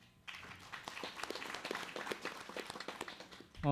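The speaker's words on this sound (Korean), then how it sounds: "우리 네 분께 다시 한번 큰 박수 부탁드리겠습니다" An audience claps for four participants at a provincial council policy forum on safe school commuting by public transport, a faint, steady patter of many hands sustained for several seconds.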